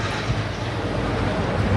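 Strong wind buffeting outdoors near Horse Guards, a steady broadband roar with low rumbling gusts and no voices.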